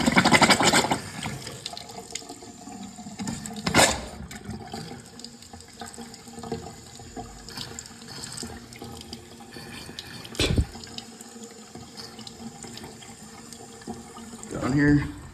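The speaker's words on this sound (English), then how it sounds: "now we can go and test the faucet" Water runs from a newly installed faucet as a plumber tests it, hissing and splashing with a few louder gushes and knocks. Someone talks intermittently over it.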